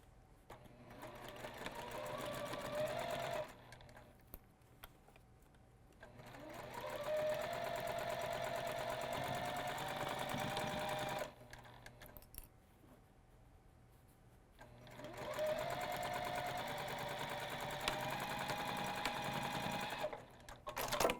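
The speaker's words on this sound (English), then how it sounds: "Again, I'll do a 1/4 inch seam." A sewing machine stitches a 1/4 inch seam in the lining of a fabric tote bag, running in three steady bursts of several seconds each with short quiet pauses between them, close and clear.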